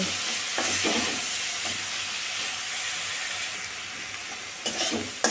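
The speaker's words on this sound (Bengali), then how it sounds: "নাড়াচাড়া করে নেব মশলাটা কাঁচা গন্ধটা চলে যাওয়া পর্যন্ত" Spice masala for a prawn pulao is stirred and fried in a pan, giving a continuous close sizzling hiss with soft scraping strokes and a few louder stirs near the end.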